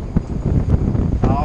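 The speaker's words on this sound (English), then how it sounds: "My bad about the wind." Wind buffeting a microphone outdoors at a job site where a 7.5-ton Lennox HVAC compressor is being replaced, a loud, gusty rumble with low thumps, under and between a man's speech.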